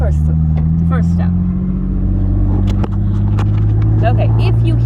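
Engine of a 1999 Ford Mustang under way, a loud steady low drone from inside the car with pitch rising and a brief dip mid-clip, while a person talks over it.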